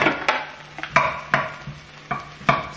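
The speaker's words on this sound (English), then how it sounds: "I'm now going to throw in the mushrooms" Mushrooms going into a hot pan of chicken stir fry with onions crackle in a sizzle, marked by a series of sharp clacks and scrapes from stirring at irregular intervals, close and moderately loud.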